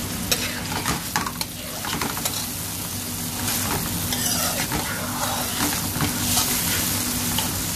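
Boiled peas being stirred into a spaghetti and tuna pasta sauce in a pan, giving a steady sizzling, frying hiss with light scraping strokes throughout, fairly close and with no talking.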